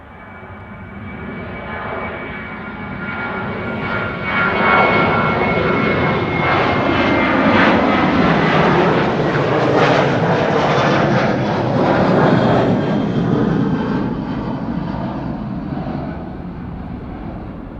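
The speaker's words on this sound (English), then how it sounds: "This is KLM flight 1755 going to Hamburg" A KLM airliner departing Amsterdam Schiphol on flight 1755 to Hamburg sends out a broad jet roar that builds over the first few seconds, holds loud and close through the middle, then tapers slightly, with no talk.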